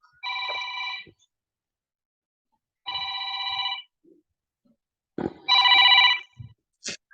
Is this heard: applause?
no